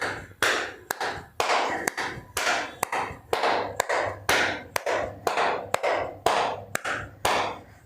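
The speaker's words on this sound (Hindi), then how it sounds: "फिर नेक्स्ट में हम पीछे ले जाएंगे और पीछे ताली देंगे, इस तरह से ताली" Sharp hand claps behind the back during a yoga exercise, about fifteen evenly spaced claps, each close and crisp with a short ringing room echo, no talk.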